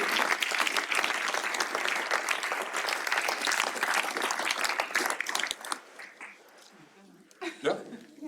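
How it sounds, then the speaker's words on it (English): A crowd at ASML's 2024 annual shareholders meeting claps loudly and steadily for about five seconds. The applause then thins out and fades, leaving scattered light laughter and a few murmured voices. "So please, a big applause for her also."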